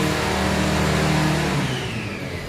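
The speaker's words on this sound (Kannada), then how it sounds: "ಸ್ಟಾರ್ಟ್ ಆಯಿತು, ಗಾಡಿ ಸ್ಟಾರ್ಟ್ ಆಗೋದು. ಈಗ ಸ್ಟಾರ್ಟ್ ಆಯಿತು ಗಾಡಿ." A vehicle engine catches and revs, a loud close roar that rises then settles to a lower running drone toward the end.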